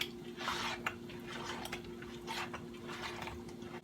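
Frozen ingredient being stirred and broken up into cheesy macaroni in a pan, with steady scraping and clinking of a utensil against the pan over a constant low hum, no talking.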